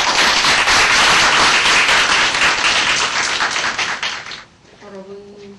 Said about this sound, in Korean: 뜨거운 박수로 맞이해주십시오.